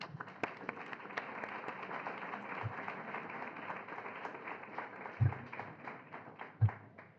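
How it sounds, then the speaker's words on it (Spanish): Audience clapping at the opening of a New York book fair, a steady, dense wash of applause from a crowd in a hall that carries on throughout, with a few louder thumps near the end. "Un aplauso, por favor."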